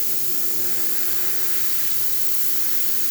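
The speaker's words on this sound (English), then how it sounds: "We're just going to activate the generator, and now it's going to start pumping steam." A steady, loud hiss of steam jets from the wand of a freshly serviced Quick Mill Silvano Evo espresso machine, continuous and close with no talk.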